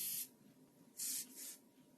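Three short hisses of an aerosol spray, close and crisp, separated by brief pauses in an otherwise quiet room.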